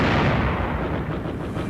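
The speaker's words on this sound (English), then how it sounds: "Infantry troops pressed forward, supported by intensive cover fire" Artillery and gunfire cover an infantry advance on the Siegfried Line fortifications near Aachen in wartime, a dense, continuous rumble of heavy blasts and shots with no clear gaps.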